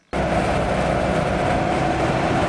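A Nissan Patrol off-road vehicle at highway speed above 120 km/h fills its cabin with a loud, steady roar of wind, tyre and engine noise that starts abruptly and holds constant.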